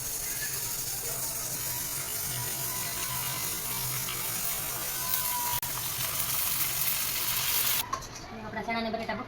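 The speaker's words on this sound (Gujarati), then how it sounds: "હવે નાખી દઈએ પૂરી." Puris frying in hot oil in a home kitchen give a steady, dense sizzle and crackle that runs almost the whole time, then drops off sharply near the end.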